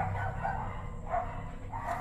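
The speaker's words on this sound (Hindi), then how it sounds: "कुत्ते भौंक रहे हैं।" Dogs bark outside a house at night, a few faint, distant barks recurring at a steady interval over a low background hum.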